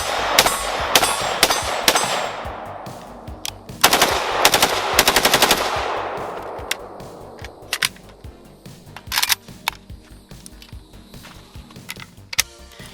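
AKS74U rifle fired outdoors in a long burst of rapid automatic shots, then several spaced single shots and short bursts that fade into ringing echoes, loud and close with no talk.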